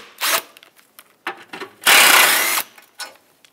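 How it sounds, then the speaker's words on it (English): A ratchet works two 10 millimeter bolts off a Mazda 6 front bumper, giving short bursts of clicking and a longer rasping whir, close and distinct, with small knocks between them. "you have two 10 millimeter bolts. Remove those."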